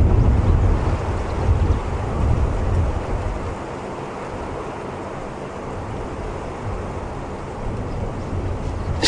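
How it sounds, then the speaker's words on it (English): Strong wind buffets the microphone in a steady, heavy roar with low rumbling gusts throughout, no voices, outdoors on a safari drive at Djuma Game Reserve. "It's very windy"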